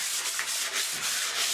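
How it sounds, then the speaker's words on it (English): Sandpaper of 220 grit rubs back and forth across a porcelain bathtub in steady rhythmic strokes, a close, continuous scratchy hiss with no voices. "But for me, it was sanding."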